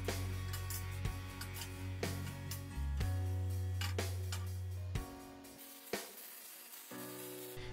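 Welding on a steel frame for a homemade lathe tool cabinet: fairly faint, uneven crackling and sizzling bursts with a low steady hum beneath, broken by a few brief pauses.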